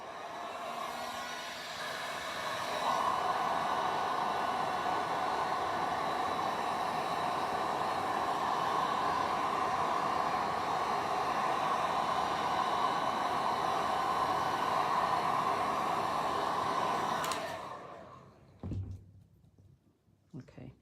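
A heat tool fusing encaustic wax on a painting blows a steady, loud, close whooshing roar for about seventeen seconds, then switches off, followed by a few faint knocks.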